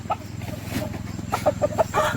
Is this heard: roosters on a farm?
yes